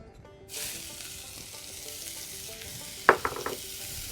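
Shallot sizzling in a little oil in a pan: a steady frying hiss starts after a brief quiet moment and holds, with a couple of sharp clinks or scrapes near the end, no voices.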